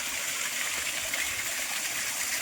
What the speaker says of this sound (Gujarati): ઉપરથી પાણી આવે છે આ મગાથી અને આ મગાથી બંને મગાથી પાણી આવે છે બહુ મસ્ત એવું ઝરણું પડે છે